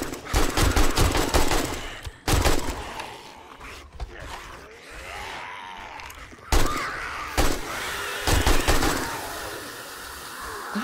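Gunshots in the video game 7 Days to Die, loud sharp bursts arriving in irregular clusters with quieter gaps between them, no talking.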